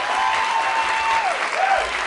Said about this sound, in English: please keep your applause going for all the volunteers